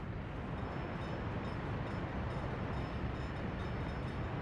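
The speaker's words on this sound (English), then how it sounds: "Here's construction scrap train." Construction scrap train in the game Workers and Resources, a steady rumbling roll of rail cars on track, broad and continuous at moderate level with no talk.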